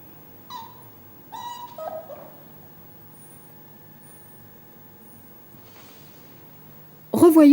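A puppy held on its back during a Campbell temperament test gives a few short, high whimpers and yips, faint in a quiet room, followed by a louder burst at the end.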